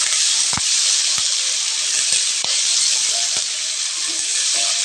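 Onions sauté in a hot pan with a steady, bright sizzle and hiss that fills the whole stretch, and a few soft clicks and knocks come through underneath. No one speaks.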